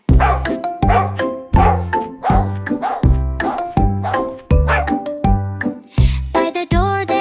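Dog barks, repeated roughly every half second, ring out over a steady bouncy children's music beat, loud and close throughout.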